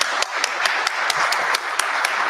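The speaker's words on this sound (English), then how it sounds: "You guys may now applause." Applause from a small press-room crowd after a wrestling post-show media scrum, steady close clapping with a few sharper individual claps popping out at a regular pace, alone without talk.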